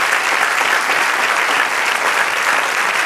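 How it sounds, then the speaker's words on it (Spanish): A church congregation breaks into sustained, dense applause, a steady wash of many hands clapping at close range that continues for the entire stretch without letup. "Denle un aplauso al Señor."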